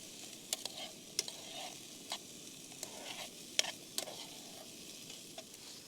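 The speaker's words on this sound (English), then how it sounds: "So courgettes are just browned a little bit." Courgettes and sausage frying in a pan at a wild camp in the rain, a faint low sizzle under scattered clicks and taps of stirring, quiet and close with no talking.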